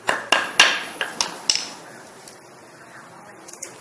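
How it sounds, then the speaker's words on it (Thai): Several sharp hammer blows in quick succession on folded woven strips of a sticky-rice basket, then a few lighter taps trailing off, with faint clatter in between. "ก็ใช้ค้อนทุบนะคะ ตรงที่พับลงเมื่อกี้"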